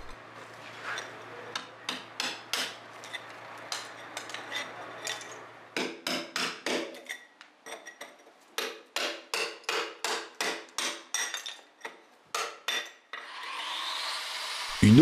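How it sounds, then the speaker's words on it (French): Hammer blows drive a chisel by hand to clear a groove cut in a wall, a long series of sharp, close metallic strikes in uneven bursts, some quick runs of taps and some spaced single hits, with faint scraping between them. "vous devez encore dégager la rainure à la main avec un marteau et un burin"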